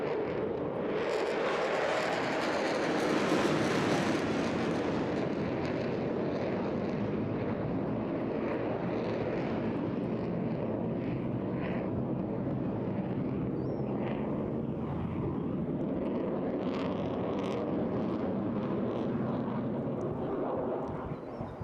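Jet aircraft at the Eastbourne International Airshow 2024, a loud, broad engine roar that swells early, then holds steady as the jet passes at a distance.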